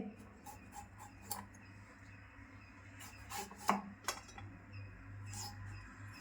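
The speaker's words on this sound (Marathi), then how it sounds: "आता मी हे टोमॅटो ना एकदम असे बारीक बारीक कापून घेते" Knife finely chopping tomatoes on a board for a Malvani-style tomato curry: faint, irregular light taps over a steady low hum, with one sharper knock near the middle.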